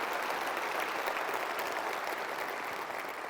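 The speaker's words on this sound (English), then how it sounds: "I think that's worth a round of applause." An audience at the Sony E3 2005 press conference applauds, a dense, steady wash of clapping heard from within the hall.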